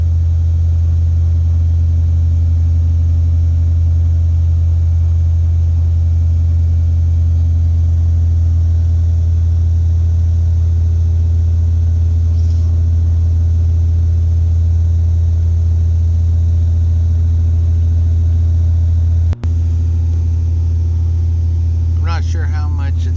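Turbocharged engine of a 2016 Hyundai Veloster DCT idling high at about 2500 rpm, a steady loud low drone held evenly throughout, with a brief click near the end.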